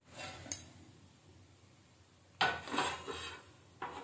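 A spoon stirs raw mango gurma gravy in a cooking pot, giving a few quiet, close metallic scrapes and clinks in short bursts separated by near silence.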